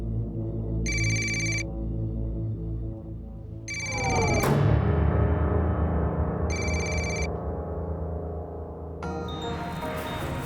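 A telephone rings repeatedly and goes unanswered, bright electronic ring bursts repeating in a steady rhythm over a low droning background.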